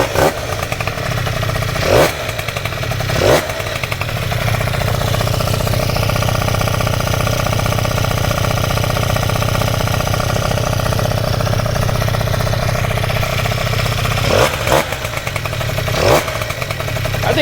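Scooter engine with a Naraku 47mm cylinder kit running loud and close to burn off assembly oil, a steady rattling two-stroke drone with brief blips of revving near the start and end, no talking.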